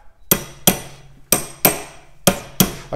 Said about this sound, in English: What you could do is to just give it maybe a sharp tap